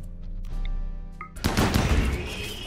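Sharp bursts of gunfire crackle loudly in quick succession after a brief quieter stretch, with a busy RimWorld game soundscape underneath.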